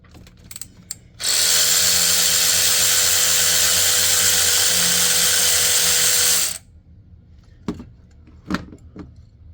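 A power tool whirs steadily for about five seconds while pulling spark plugs from a 2.7-liter engine in a high-mileage 2016 Ford F-150, followed by a few sharp metallic clicks and clinks.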